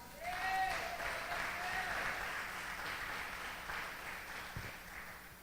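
A church congregation applauds in a steady, dense wash of clapping that fills the space for several seconds, with a brief whistle early on and no speech over it.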